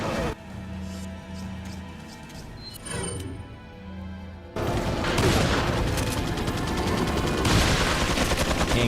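Gunfire in Resident Evil 4 on GameCube: a dense burst of game shots over the last half, loud and continuous, after a quieter stretch with some low rumble and a few sharp hits.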